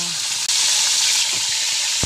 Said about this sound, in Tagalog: nagprito muna ako ng tilapia